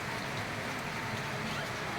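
Heavy rain from Typhoon Enteng pours down as a constant, even hiss of falling water that fills the whole moment.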